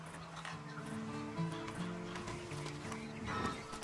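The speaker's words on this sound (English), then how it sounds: "Then you better get on this horse." A horse in the Red Dead Redemption 2 video game, with soft clip-clop hooves and faint snorting set low in a quiet ambient game soundscape.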